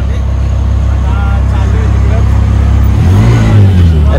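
An auto rickshaw carrying seven people near Andheri station drones steadily while riding, with a louder rev near the end and people talking over the engine.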